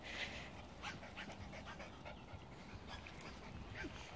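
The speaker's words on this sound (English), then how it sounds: "And there's a whole crowd of puppies trying to nurse." Toy sheltie puppies nursing outdoors, with soft panting and faint whimpers and yips close by, low and continuous under light background noise.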